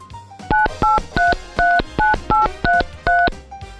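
A telephone number is dialed as a quick, evenly paced run of about eight loud DTMF keypad tones, each a short double-pitched beep, with no talk over them.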